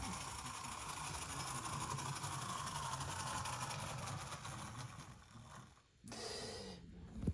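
HO scale BB 9200 model locomotive running light on a main line track, a steady low mechanical whir and rumble that fades and drops out briefly near the end as it stops.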